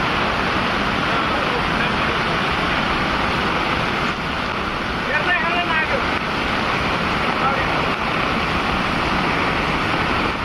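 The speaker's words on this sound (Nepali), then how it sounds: "झन् खोला उर्लेर आउँदैछ डेन्जर।" A swollen river rushes in flood under heavy rain, a constant loud broadband roar with no let-up. A voice is faintly present beneath the torrent.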